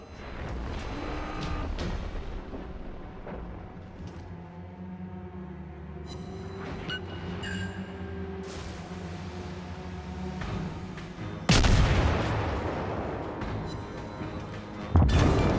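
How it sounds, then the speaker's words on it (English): Torpedoes from a Minekaze destroyer strike an enemy battleship in World of Warships, heavy booming impacts bursting out late over a low droning ocean and engine bed. "my torpedo salvo will be a true strike"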